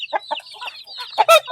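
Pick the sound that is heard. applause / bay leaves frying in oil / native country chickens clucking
native country chickens clucking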